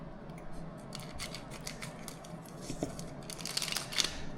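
Japanese Pokémon card booster pack from the Battle Partners set being cut and torn open, close scissor snips and foil crinkling in uneven bursts, quiet overall, with brief faint voice sounds.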